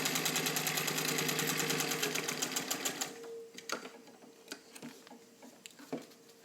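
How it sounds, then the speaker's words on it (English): A vintage all-metal Singer 201K sewing machine stitching through leather: a steady, fast mechanical whir and rapid ticking that slows and breaks into irregular clunks and taps as it stops, close and fairly loud. "And now you see it sewing the leather, just sewing it right through."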